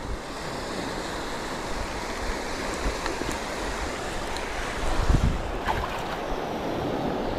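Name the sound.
sea waves breaking on the shore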